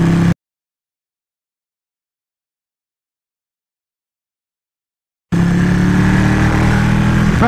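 Motorcycles ridden fast by locals rush past with loud engine roar; a short burst, a long stretch of total silence, then a sustained, close, droning engine note.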